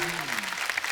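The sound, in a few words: studio audience applause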